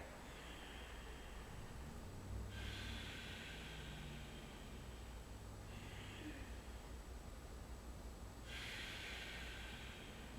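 Deep breathing during a yoga inversion, slow audible breaths in long hissy swells, three or four cycles, faint and close over a quiet hiss with a steady background tone.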